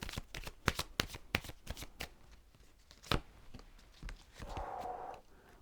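A glittery Rider-Waite tarot deck is shuffled up close, with a run of crisp, rapid card riffles and slaps, then a quieter softer shuffle toward the end.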